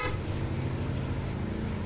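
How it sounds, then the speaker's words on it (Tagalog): A PIAA aftermarket horn on a Yamaha NMAX Tech Max scooter sounds in one continuous, steady blast lasting about two seconds, fairly close and moderately loud. "Busina na yan pa."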